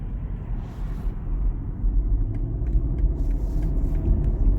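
A BMW 320i Touring G21 accelerates into traffic with a low, steady engine rumble heard from inside the cabin, growing slightly as it pulls away.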